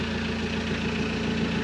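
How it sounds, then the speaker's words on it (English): Sailboat engine idling to warm up before departure from Newport, a steady low droning rumble with a faint knocking pulse, constant and close, no talk over it. "We just started the engine to kind of get it warmed up"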